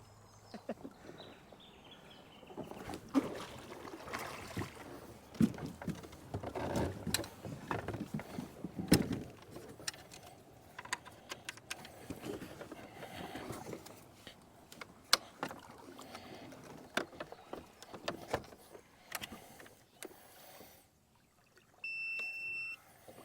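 A Parsun 1.2 kW electric outboard motor drives an Achilles inflatable boat of about 2.8 to 3 metres, running steadily and close by amid broadband rushing wind and water noise, with a few faint high beeping tones near the end.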